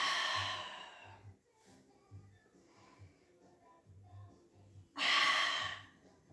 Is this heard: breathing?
yes